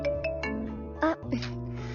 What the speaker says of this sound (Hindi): तभी शिजा का फोन बजने लगा